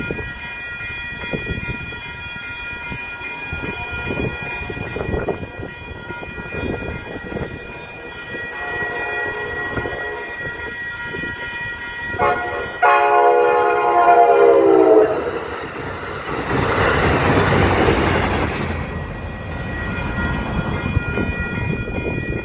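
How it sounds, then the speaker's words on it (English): An Amtrak Capitol Corridor passenger train bound for Oakland passes in the open, its rumble building before a loud multi-tone horn blast sounds partway through, followed by rushing wheel and car noise as it goes by. "Here comes Amtrak Capital Corridor going to Oakland."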